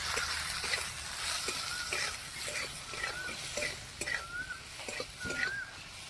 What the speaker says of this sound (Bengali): ভেন্ডির মধ্যে লবণ দিয়ে দিলাম, সামান্য হলুদের গুঁড়ো দিয়ে একটু ভালো করে ভেজে নিচ্ছি।